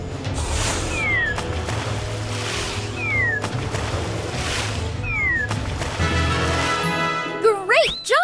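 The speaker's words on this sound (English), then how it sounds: "Crazy cat alert! How can we get past it?" A cartoon cat in the My Little Pony Harmony Quest video game meows and yowls several times at spaced intervals over game music and effects, ending in a burst of chirpy sound effects.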